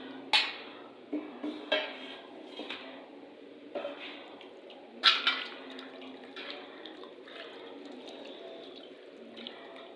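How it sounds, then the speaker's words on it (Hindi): Water poured from a tap into a wide metal tray holding raw chicken pieces, a steady close splashing and trickling with a few sharper splashes, no talk. "और इसमें डाल देती हूँ पानी।"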